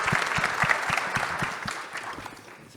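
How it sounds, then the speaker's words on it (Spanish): An audience at a panel discussion on ventilated facades applauds to welcome a speaker, a steady, dense wash of clapping that fades slightly toward the end, with faint rhythmic thumps beneath. "Un aplauso para Javier Sartorio"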